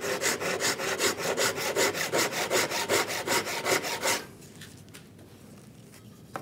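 A hand saw cuts wood held in a mitre box, about fifteen quick, even back-and-forth strokes rasping up close before stopping abruptly, leaving faint room noise.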